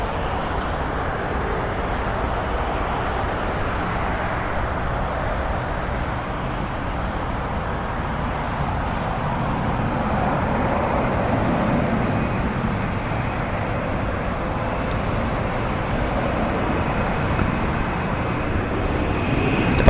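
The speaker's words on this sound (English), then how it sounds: "Arriving on the north side over there is going to be JetBlue Airways flight 287. It's an Airbus A321neo." A JetBlue Airbus A321neo arriving at LAX from Boston, a steady broad jet roar that swells slightly as it approaches, heard from a distance without speech.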